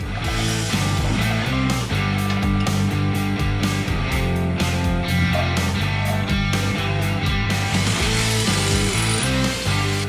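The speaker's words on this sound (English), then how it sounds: "Alright, got the holes drilled." Steady, loud whine of a power drill boring holes in metal for shock mounts, running almost without pause and broken by brief shifts in pitch.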